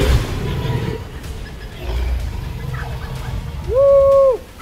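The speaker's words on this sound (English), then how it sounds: "Woo, the birds are going mad." Birds squawk and call loudly near a Nile crocodile at the waterside, with a sharp, sustained call standing out near the end over a rumbling outdoor background.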